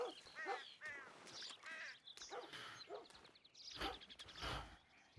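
A crow caws in a video game, several harsh, drawn-out calls in close succession at moderate volume, standing alone without talk.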